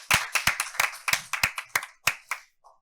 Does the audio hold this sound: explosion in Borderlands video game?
no